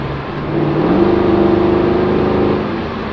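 Mercedes C63 AMG with the P30 Performance pack revving with its exhaust valves open, a loud, close engine note rising from quiet, holding steady and dropping back within about three seconds.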